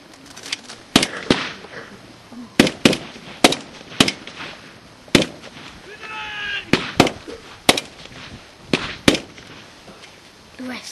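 Rapid gunfire during an army training exercise at a foundation college, with sharp cracks in irregular volleys, some close and others farther off, plus a short whistle partway through.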